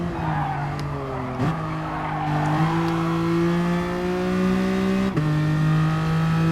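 A Tesla Model S electric car races in Gran Turismo, giving a steady rising motor whine with sharp dips at gear-like shifts and a skid of tires, loud and close with no talk.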